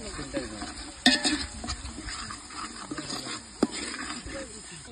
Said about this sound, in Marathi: आता आपण ह्याच्यामध्ये टाकून घ्यायचा काळा मसाला घरगुती केलेला सोलापुरी पद्धतीचा येसूर. चांगलं परतून घ्यायचं येसूर सुद्धा आपण 2 मिनिटं.